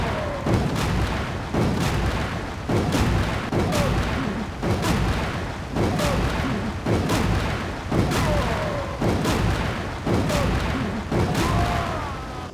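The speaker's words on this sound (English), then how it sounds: "Now let's try acid rounds." Acid rounds fired at a Big Man Majini in Resident Evil 5 land as about ten heavy, booming shots, evenly spaced a little over a second apart, each with a short echoing tail.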